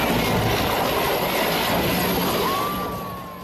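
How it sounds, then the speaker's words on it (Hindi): Air Force rescue helicopter flying over flooded Chitravati river terrain, a steady broad rotor and engine roar that stays loud before gradually fading as it moves away, with a faint whine rising near the end. "वायुसेना का ये रेस्क्यू हेलीकॉप्टर बेंगलुरु के एयरफोर्स स्टेशन से आया था"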